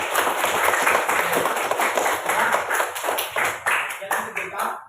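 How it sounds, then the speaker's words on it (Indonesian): A classroom of students claps their hands together, the claps coming in a loose, uneven rhythm with distinct individual slaps, close by and lively, with voices mixed in. "Ya, tepuk tangan dulu."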